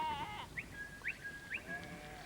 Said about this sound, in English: We found the sheep and saw Cal, the sheepdog, hard at work.